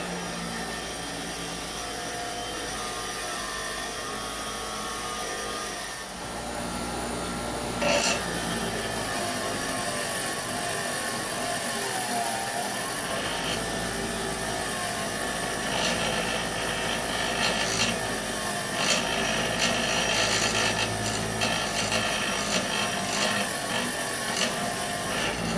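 Rust is scrubbed off a 1-inch steel shaft rod for a snowblower actuator, giving a continuous harsh rasping and grinding that runs loud and steady for the whole stretch, close up and with no talking.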